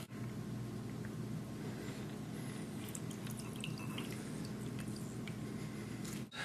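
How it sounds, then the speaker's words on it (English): A fresh lemon is juiced by hand in a kitchen, giving soft, faint squishing and dripping sounds that repeat quietly without talk. "juicing the lemon"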